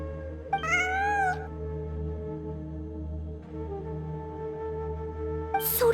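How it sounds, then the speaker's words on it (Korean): Cat meowing in the video game Genshin Impact, one clear rising-and-falling meow early on and another short cry at the very end, set over a steady tonal musical backdrop. "환청이 아니야. 진짜 고양이야."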